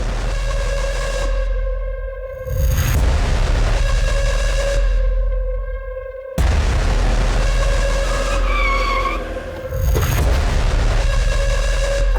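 Cars race in a chase scene, engines roaring loudly with sharp booming whooshes and revving surges as vehicles pass close, heavily layered with no voices.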